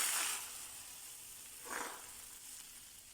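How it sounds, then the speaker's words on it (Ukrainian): Soft sizzling hiss of egg crepe batter frying in an ungreased hot pan, with two brief louder swells of sizzle amid a quiet steady background. "Ставимо сковорідку на вогонь і будемо жарити наші млинчики."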